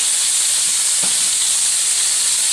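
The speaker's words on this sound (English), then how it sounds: "While those are grilling up" Marinated vegetables sizzling on a grill, a steady broadband hiss that stays even throughout, with one faint soft knock partway through.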